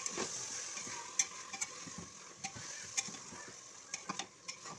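Chicken sautés with spice paste in a pan, a soft steady sizzle broken by scattered clicks and scrapes of stirring, close but quiet, with no voices.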